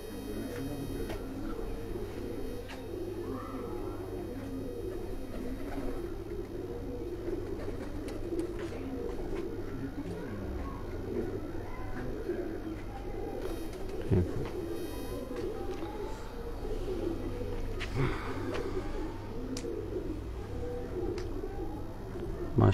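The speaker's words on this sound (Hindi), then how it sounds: "ਕਸੂਰੀ ਕਬੂਤਰ ਦਾ ਤੁਹਾਨੂੰ ਸ਼ੌਕ ਕਰਾ ਰਹੇ ਹਾਂ ਜੀ।" Kasuri pigeons coo softly and steadily, with a constant low murmur of birds running throughout and occasional clicks and brief calls.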